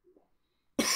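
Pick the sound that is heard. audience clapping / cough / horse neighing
cough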